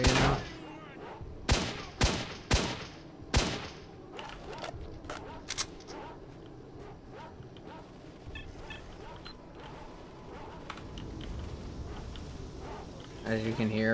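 Gunfire in the S.T.A.L.K.E.R. game: several sharp, loud shots cluster in the first few seconds, a few scattered later shots follow, and a quieter bed of ambience runs under a voice talking throughout.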